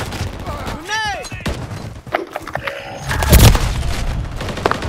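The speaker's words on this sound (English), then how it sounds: "Watch the gunshot." Multiplayer Call of Duty Modern Warfare 3 gunfire, a few sharp booming shots amid game sounds, loudest toward the end, with someone talking over part of it.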